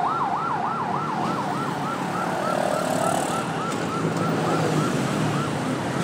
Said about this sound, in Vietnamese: Xe cứu thương chạy tiếp.